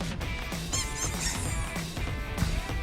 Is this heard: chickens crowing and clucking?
no